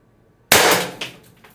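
A single sharp crack from a Beeman BP50 air pistol firing, loud and close, followed by a brief metallic ring and a small clatter as it fades.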